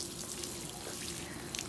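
Garden water pouring steadily onto plants in Georgia red clay, a soft continuous splashing hiss, faint and even throughout the short stretch.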